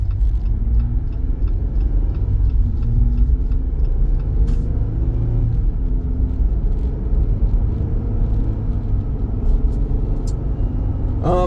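A 2024 Jeep Wrangler Rubicon JL with factory 4.88 gears on 37-inch mud-terrain tires accelerates onto a road, a loud, steady engine and road rumble that continues throughout, heard from inside, with no talking.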